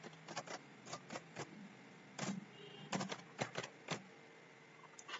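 An address typed on a computer keyboard in a quiet room, with faint, scattered keystroke clicks at an uneven pace.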